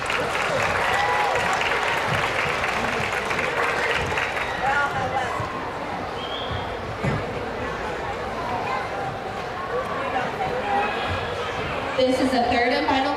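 Applause from the audience at a county fair youth swine showmanship class, a continuous patter of clapping mixed with crowd noise and announcer speech through the arena.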